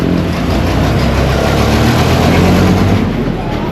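A big truck's engine rumbles in a steady, heavy drone close by, broadband road noise holding at a constant level with no clear speech.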